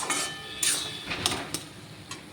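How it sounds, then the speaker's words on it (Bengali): A metal lid clatters onto a cooking pot of simmering mung dal and papaya, a few sharp clinks and scrapes in quick succession, close and moderately loud, with no talking. "এখন আমি এটা ঢাকা দিয়ে দেব।"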